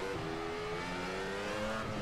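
A V10 Formula car engine screams at high revs in rFactor 2, a continuous, slightly wavering whine heard from the cockpit as the car follows another into a corner.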